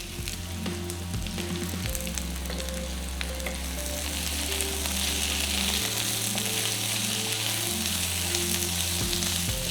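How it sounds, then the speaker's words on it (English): Roughly sliced onions with salt sizzle in hot oil over a high flame, a steady broadband frying hiss that holds loud throughout, with occasional stirring clatter and a low background hum. "Now add about 2 cups roughly sliced onions and salt."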